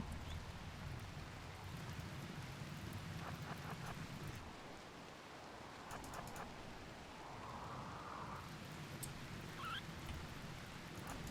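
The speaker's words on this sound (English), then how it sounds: "Okay, the rain is not good." Steady rain patters in the video game Rimworld, a soft continuous hiss with faint scattered chirps and clicks over it, heard alone without talk.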